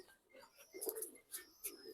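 A black-necked pigeon coos softly at close range in a home loft, a few short low coos in a quick irregular series against a quiet background.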